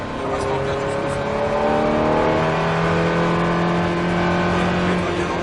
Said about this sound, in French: on garde un filet de gaz constant et on accélère progressivement